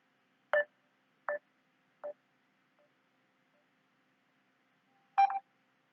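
Short electronic telephone tones on a dropped call: three evenly spaced beeps about a second apart, then silence, then a louder double burst near the end, heard alone with no talk.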